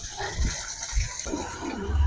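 Water is poured into a container, a short gushing splash that swells and fades over about two seconds.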